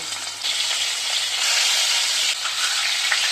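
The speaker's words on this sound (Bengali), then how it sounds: "তেল গরম হয়ে গেছে এবারে আমি মাছগুলোকে দিয়ে দিব" Rui fish sizzling as it deep-fries in hot regular cooking oil, a steady close crackling hiss that swells after the first half second and holds loud and dense throughout, with no talk.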